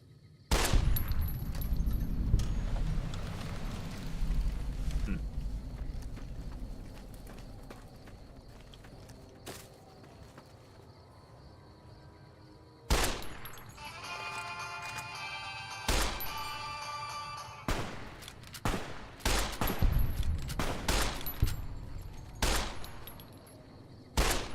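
Gunfire in Helldivers 2: an opening rumble of shots, then a quieter stretch, followed by sharp bursts and rapid volleys with clattering impacts, moderately loud and close.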